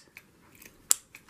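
A few quiet snips of dull scissors cutting fabric, with a crunchy, dragging edge, one sharper clip standing out in an otherwise quiet moment.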